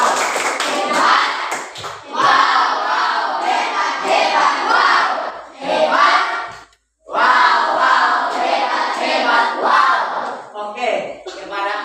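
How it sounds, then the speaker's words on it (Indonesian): Students in a classroom give a group its applause: loud, steady clapping mixed with shouts and cheering from the room, broken by one brief pause before the noise swells again. "sekali lagi tepuk tangan kepada kelompok 6"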